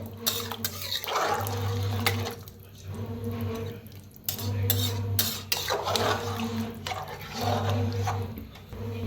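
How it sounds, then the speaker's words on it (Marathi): Chicken is stirred with a glass of hot water inside a pressure cooker, producing repeated close scraping and sloshing strokes in a steady rhythm, with faint clinks of metal and a little background voice. "एक ग्लासभर गरम पाणी करून घेतलं होतं आणि एकदम मिक्स करूया"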